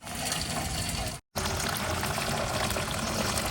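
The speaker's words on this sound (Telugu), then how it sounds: "అన్నము ఇక ఇది వాటర్ అంతా ఈ బౌల్లోకి తీసేసుకుందాం." Cooked rice water pouring from a pot into a bowl, a steady loud wash of splashing liquid broken by one brief pause, close by with no talk.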